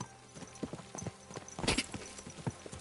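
Horse hooves clip-clopping in the video game Kingdom Come Deliverance 2, a brisk uneven run of close, crisp hoofbeats with no talk over them.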